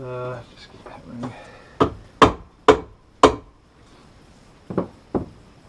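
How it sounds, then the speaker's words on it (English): A hammer strikes an outboard motor's steering bracket (tilt tube) in a run of sharp metallic blows, four close together and then two more after a pause, with brief talk at the start. "Just keep hammering."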